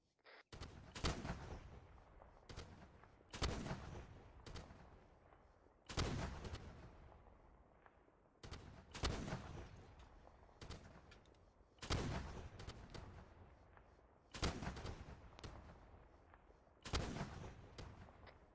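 A Vietnam-era artillery battery fires high explosive rounds in a game: heavy booms come about every two to three seconds, each with a long rumbling decay, some eight shots in steady rhythm.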